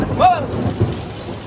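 Heavy rain pours steadily while thunder rumbles low through the downpour, loud and close.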